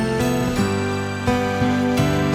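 Acoustic guitar strumming chords without equalization, a full, heavy low end and duller top, steady rhythm, no voices.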